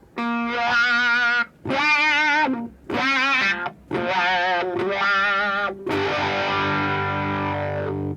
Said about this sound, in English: Let's hear the fuzz post-wah.